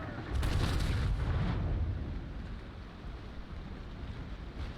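A mortar fires from a mortar brig in the naval sailing game Naval Action, one deep, heavy boom at the start that rolls out and fades into a long rumbling tail.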